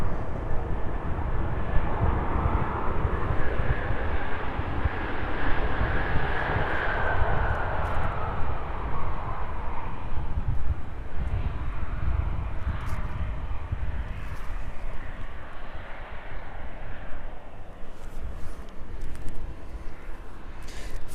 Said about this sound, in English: Very noisily arriving in with us then this evening is that aircraft just about to make an appearance